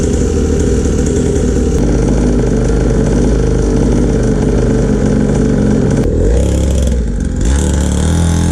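A cheap Syx Moto mini dirtbike engine idles steadily and loudly up close, a constant buzzing putter with a slight dip and rough change in tone near the end.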